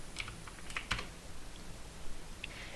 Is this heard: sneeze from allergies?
no